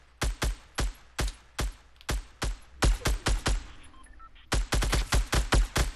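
Gunfire in Fortnite rings out in sharp, loud bursts of rapid shots, each volley a tight cluster of cracks broken by short pauses before firing resumes.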